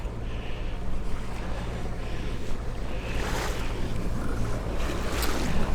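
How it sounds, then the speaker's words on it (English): A catamaran motors under engine at sea off the US East Coast, its low steady engine hum mixed with rushing waves, hull splashes and wind buffeting the microphone. "now we've got some pleasurable motoring"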